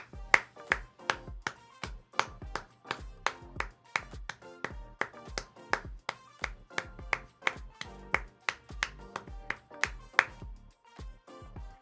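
Evenly spaced hand claps ring out one after another in a steady rhythm, close and crisp, with no talking.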